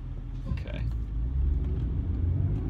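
A 2003 BMW E46 M3 with SMG gearbox pulls under acceleration, its engine rumbling low and steady close by throughout, with a brief burst of other noise near the start.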